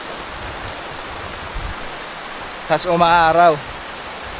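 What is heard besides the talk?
rain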